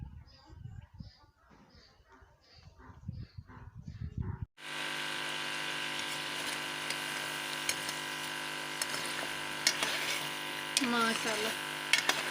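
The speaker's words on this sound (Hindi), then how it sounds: "ये 5 मिनट और फ्राई करूँगी" Chicken for a chicken karela dish frying in a pan, heard as a steady, close sizzle that starts abruptly after someone speaks briefly.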